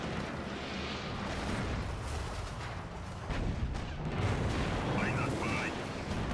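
Tank blown up in the Axis and Allies real-time strategy game, heard as a dense, rumbling wash of artillery-like blasts and booms that swells louder midway, with a brief synthetic voice cue near the end.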